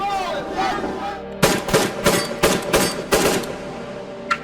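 Gunshots in a Brooklyn sidewalk shooting caught on a restaurant surveillance camera, a rapid burst of about seven sharp cracks fired in quick succession after a quieter stretch, then a lone faint report.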